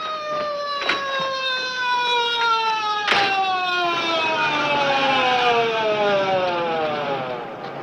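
A loud wailing siren rises and falls in long sweeping tones, with a couple of sharp knocks near the start.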